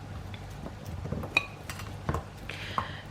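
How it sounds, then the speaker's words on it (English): A baking tray gets handled while vegetables go onto it, giving a few light metallic clinks and clatters close by against a quiet room. "I'm just going to get a baking tray and pop those in."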